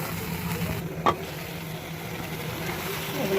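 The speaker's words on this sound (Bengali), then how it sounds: "এরপর আমি সব মশলা একসাথে দিয়ে কষিয়ে নেব" Ground spices and soybean chunks are sautéed in a pan, giving a close, continuous sizzle with scraping stir strokes and one brief sharp clink of a utensil early on.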